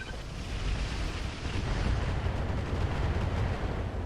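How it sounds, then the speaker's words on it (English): A volley of missiles fired from a mech in the video game RogueTech, a dense rumbling roar of launches and blasts with heavy low-end thunder sustained for several seconds, no speech over it. "would like to fire our missiles at the warrior."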